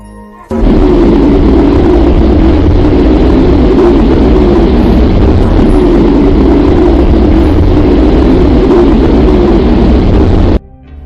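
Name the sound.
purported recorded sound of the Earth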